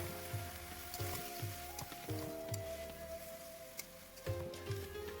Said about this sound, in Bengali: খুন্তির সাহায্যে ভালোভাবে মিক্স করে নেব